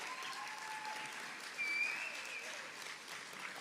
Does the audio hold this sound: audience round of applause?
yes